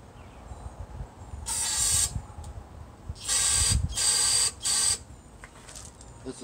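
An aerosol can sprays into the engine of a Murray riding mower with a 17.5 hp Tecumseh engine and a 42-inch deck. Four short, sharp hissing bursts come close by, with quiet handling noise between them.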